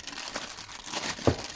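Close, quiet crinkling of the plastic bag holding a new left-side brake caliper part, a continuous rustle with one sharper crackle near the end and no talking.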